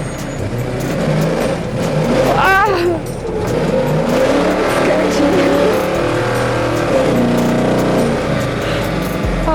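The KT01 build car is driven hard and accelerates, its engine roaring loud and steady up close from inside the cabin, with a brief tire squeal and a short exclamation from an occupant partway through.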